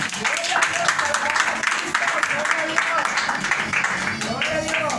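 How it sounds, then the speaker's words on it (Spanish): A church congregation applauding together in a sustained, dense wash of clapping that continues steadily, with voices calling out within it. "Denle un aplauso al Señor, hermano."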